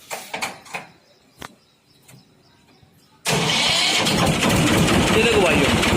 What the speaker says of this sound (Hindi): तो देख लो एक बार भाई ट्रैक्टर की आवाज़